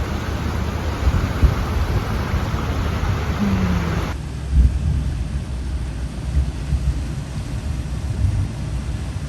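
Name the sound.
thunder heard from a boat on the Black Warrior River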